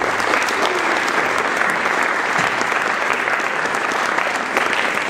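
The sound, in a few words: audience applause at interfaith dialogue event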